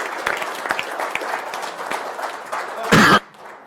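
Applause breaks out in a room at a Board of Supervisors meeting, a scattered patter with coughs and throat clearing that swells into a short, loud burst of clapping near the end, then cuts off.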